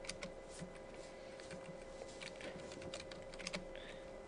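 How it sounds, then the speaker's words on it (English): Keyboard keys and mouse buttons clicking during AutoCAD drafting, a steady run of close, dry taps with repeated spacebar presses and single clicks, no talking. "Left click, spacebar, spacebar, spacebar, spacebar"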